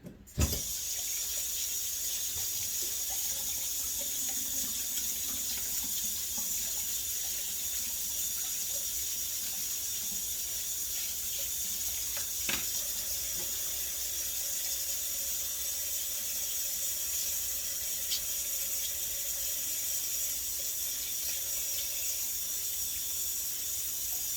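Steady running water from a garden tap pours continuously as hands are washed, close by and even in level, with a brief clunk partway through and no voices.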